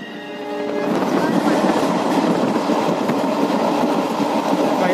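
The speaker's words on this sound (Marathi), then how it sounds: "गाडी खूपच स्लो चालू आहे" An Indian Railways train with a 3-tier AC coach rolls slowly, giving a loud, steady rumble and rattle of wheels on track, heard close up from inside near the carriage door.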